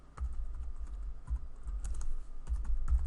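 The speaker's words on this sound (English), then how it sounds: "I'm just going to type in Independence Hall." Typing on a computer keyboard, a steady run of close, soft key clicks with a few heavier thumps, likely the spacebar, and no talking.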